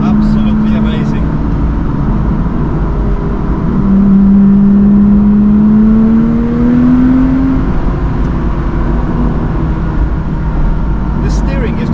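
A Lotus Exige 350 Sport engine sits close behind the cabin and rises in pitch through a steady acceleration, a loud continuous drone with a rising whine midway, heard from inside the car.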